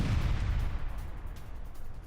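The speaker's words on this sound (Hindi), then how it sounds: "आईडीएफ बेस बिल्डिंग को धमाके में उड़ा दिया।" Military base building destroyed by an explosive blast, rendered as a deep, sustained rumbling roar with crackling debris that slowly thins out over a couple of seconds.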